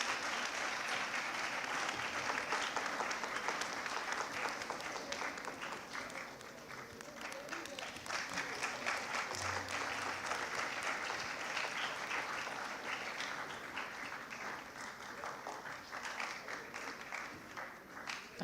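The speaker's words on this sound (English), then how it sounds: "Please give a big round of applause to them, please." Sustained applause from an audience at a school Founders' Day assembly and debate, for the opposing side team receiving consolation prizes; dense steady clapping holds for the full stretch, with a few scattered voices mixed in.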